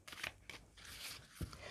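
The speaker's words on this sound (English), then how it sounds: "now I'm shuffling the cards for Libra." Tarot cards shuffled by hand in a short burst of crisp riffling and papery snaps, close and fairly quiet, ending in a soft tap.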